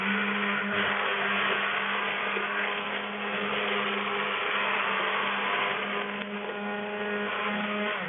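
A stick blender mixing liquid soap whirs steadily with a constant motorized hum, close and loud, with no talking.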